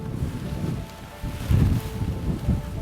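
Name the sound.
strong wind on a Hawaii ridge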